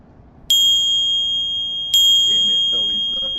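Two bright electronic notification dings, each a clear high bell tone that rings on with a long sustain, the first at half a second and the second about a second and a half later, with faint voices murmuring underneath.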